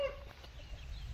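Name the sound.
chickens clucking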